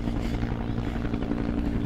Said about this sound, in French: Mais ça se tire ou c'est juste les bruits d'hélicoptère?